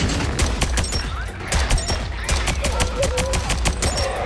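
An SMG turret in the video game Sentry firing rapid bursts of close, sharp gunshots in a steady fusillade, with game sound effects mixed in.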